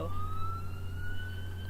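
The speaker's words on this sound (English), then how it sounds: "Sirens, that's always fun." A single emergency vehicle siren, heard at a distance outdoors near a city convention center, holds a steady rising tone over a low traffic rumble. It comes through faint and continuous.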